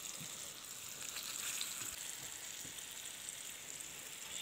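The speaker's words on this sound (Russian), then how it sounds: "Рыбка у меня жарится." Steady crackling sizzle of fish frying in a hot pan, continuous and fairly close, with a few soft clinks and pops underneath.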